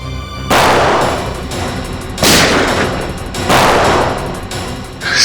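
Loud bursts of gunfire in a TV crime-drama shootout during an attack on a car, three or four rapid volleys that boom and echo, each followed by a decaying crackle.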